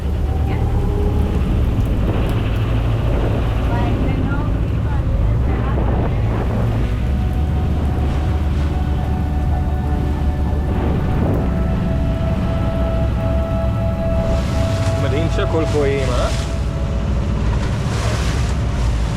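A boat motors across open water in Vietnam, with steady engine rumble, wind buffeting and splashing waves throughout; a few voices talk briefly over the noise.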